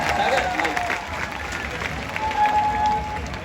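A crowd claps and cheers at a Ganesh arrival procession for Chintamani in Chinchpokli, Mumbai. The dense, steady applause and crowd noise continue for the whole stretch.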